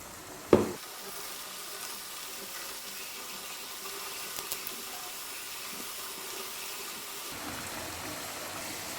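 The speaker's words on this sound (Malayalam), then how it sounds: "ഈ സമയത്ത് നമുക്ക് കുറേശ്ശെ ഇട്ടിട്ട് ഫ്രൈ ചെയ്തെടുക്കാം." Wheat flour pakoda frying in hot oil, a steady soft sizzle running throughout with a brief clatter near the start as pieces are dropped in.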